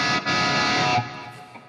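A distorted electric guitar through a Fractal preset rings out a single sustained chord that cuts off after about a second, leaving a short fading tail.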